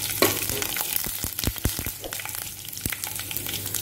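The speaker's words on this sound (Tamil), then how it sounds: "இது நல்லா கடலைப்பருப்பு நல்லா பொரியட்டும்." Chana dal frying in hot oil for wheat rava upma: a steady close crackling sizzle, broken by sharp pops and a few clicks of stirring, with no talking.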